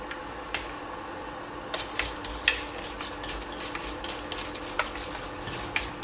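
Chickpeas and chana dal fry in hot coconut oil, a low steady sizzle under sharp, irregular clicks and ticks from stirring against the pan, close by and without talking.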